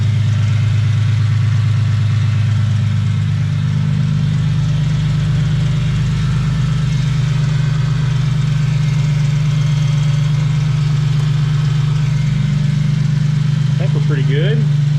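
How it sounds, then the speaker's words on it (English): A drift car with an aftermarket exhaust idles steadily and loudly up close for the whole stretch, a deep even rumble with no revving, while a faint voice comes in near the end. "This thing sounds pretty good with that exhaust."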